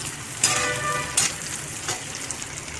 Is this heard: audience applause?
no